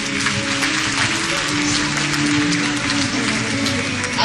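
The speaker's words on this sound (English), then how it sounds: "Audience, give them a round of applause" A stage magic show audience applauds an illusion act with dense, steady clapping that fills the whole stretch. A low sustained tone hums faintly underneath.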